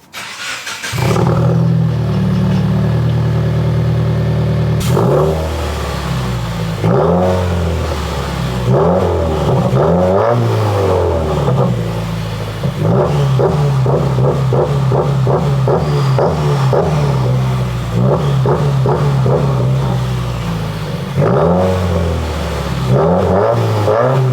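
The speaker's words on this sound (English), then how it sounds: "Let me give you guys a little bit of an exhaust sound clip." A Subaru WRX engine idles and revs repeatedly, its exhaust rising and falling in loud, throaty bursts, close by with no talking.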